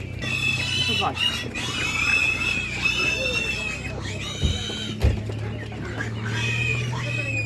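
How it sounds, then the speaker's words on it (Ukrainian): Speckled hens and roosters cluck and squawk continuously at an outdoor animal market in Ukraine, with repeated nearby bursts over a busy background while people talk. "Оці гарні курочки, оці вони ці рябенькі не гарно несуться."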